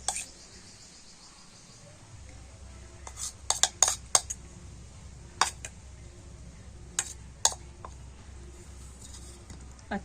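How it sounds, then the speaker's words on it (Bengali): A spoon scrapes and taps against a greased plate while spreading cake batter, giving a run of light clinks and scrapes in short bursts over a low steady background hum. "আর চামচ দিয়ে তো চারিধারে একটু ভালো করে এইভাবে ছড়িয়ে দেব"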